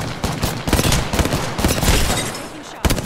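Rapid bursts of gunfire in the battle royale shooter Apex Legends, sharp shots crackling in quick uneven volleys, loud and close, with a short pause before a final shot near the end.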